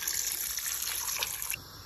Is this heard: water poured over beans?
yes